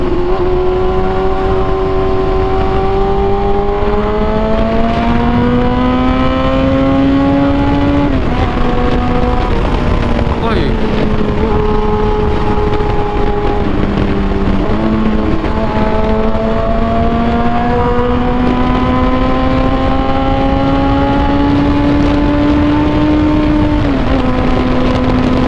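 A big motorbike on a busy road in June rises in pitch through several steady accelerations, with a loud, continuous engine drone and wind rush throughout, and a brief drop between gear shifts, no voices.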